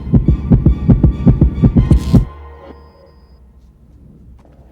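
A recorded human heartbeat plays loud and close as a steady double-thump pulse, roughly nine beats over two seconds, then cuts off abruptly and leaves a low quiet hum.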